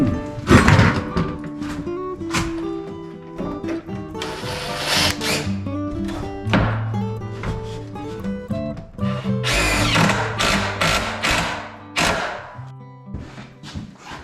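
A power tool furring out a mobile home bedroom door frame, converting it from 2x3 to 2x4 lumber, runs loud and close in repeated bursts of whirring and grinding, with short pauses and knocks between passes.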